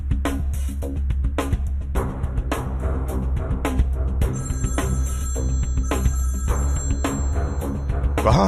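A telephone bell rings loudly and repeatedly in a fast, rattling rhythm, continuing without pause over a dense background.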